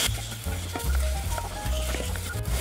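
Chicken pieces stirred in a frying pan for corn soup, a busy sizzle with repeated scraping strokes of the utensil in an uneven rhythm, close and fairly loud.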